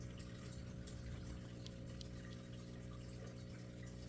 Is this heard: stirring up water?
yes